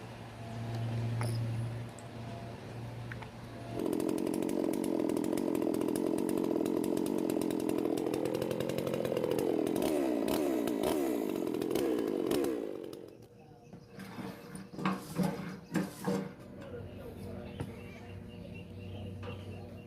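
A chainsaw runs steadily at high revs for several seconds, its engine whine wavering in pitch, then cuts off, leaving scattered clicks and light handling noises.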